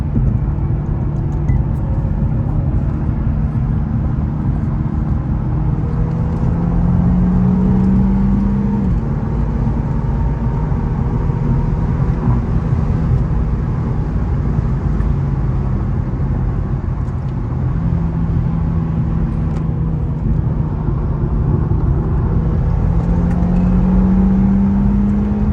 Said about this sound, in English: I'm gonna show you guys a little bit of clips on how the exhaust sounds right now